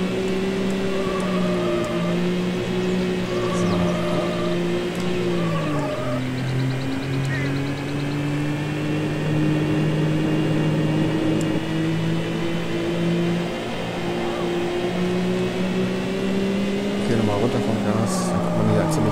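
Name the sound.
car braking then full throttle, video game Need for Speed 4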